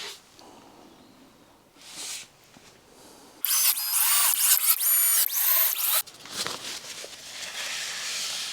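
A power drill drives pocket screws into MDF during a furniture restoration in one sustained whirring burst of a few seconds, close and loud, with shuffling and handling noise around it.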